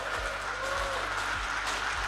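A crowd at an Indonesian government event applauds for the President over a subsidized housing interest rate, a steady wash of clapping that stays even and sustained throughout, with no voices standing out.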